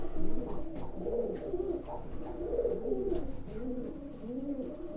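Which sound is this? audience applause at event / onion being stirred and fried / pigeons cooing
pigeons cooing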